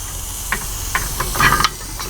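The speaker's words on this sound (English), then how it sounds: "I'm going to go ahead and start prying this caliper off" Brake caliper being pried off the rear brake of a 2003-2015 Dodge Ram 3500, giving a few short scraping and metallic knocking bursts over a steady hiss, close up.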